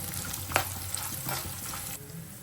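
Green chillies sizzling in hot oil with turmeric, a close crackling fry with a sharp spatter burst early on, the hiss easing off toward the end, no talking.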